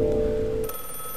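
A telephone rings in the video game The Last Time, a short electronic ring tone that cuts off and gives way to a higher chime, heard alone.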